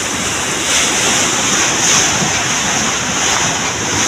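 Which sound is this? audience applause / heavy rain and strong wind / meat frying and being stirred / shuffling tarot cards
heavy rain and strong wind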